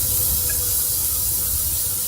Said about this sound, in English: you should already have a sizzle when you put them on